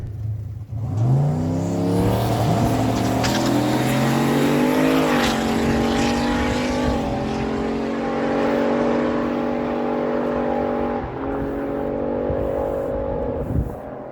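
Two drag cars, a 1980 Chevy Malibu and a 1987 Mazda RX-7, launch and scream down the strip at a dragway fall event, engines rising through gears in loud, sustained howls with harmonic whine, then backing off near the end.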